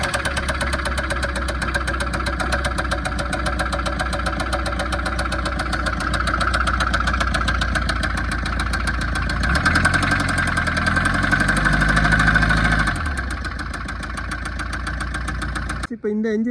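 A Tata Safari Storme diesel engine idles loudly and continuously with a steady, abnormal knocking clatter, the pitch rising briefly as it revs before the engine cuts off.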